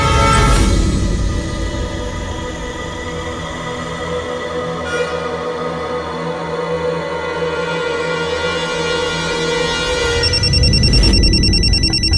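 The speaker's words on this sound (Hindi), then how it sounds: "वो तुम्हारा फोन रिंग कर रहा था" A telephone rings repeatedly in an Indian TV drama scene, a steady, loud electronic ring pattern continuing for several seconds with no talk over it.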